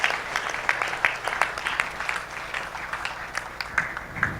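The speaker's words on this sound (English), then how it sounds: "Please give her Miss Bhagwati a big round of applause." Scattered audience applause at a real estate women's awards ceremony, a fairly quiet patter of separate claps rising and falling in a large hall.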